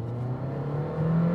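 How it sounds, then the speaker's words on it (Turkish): A Mercedes GLA200 Urban pulls away from a standstill under full throttle on a nearly flat road, its engine a steady, close drone that rises slightly in pitch and grows a little louder toward the end. "Dip gaz yaptım."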